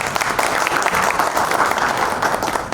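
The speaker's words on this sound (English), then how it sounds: "Can we give a big round of applause for them, guys?" Steady, dense applause from a convention audience at an HR awards event honouring leaders, a continuous wash of many hands clapping that holds at an even level throughout.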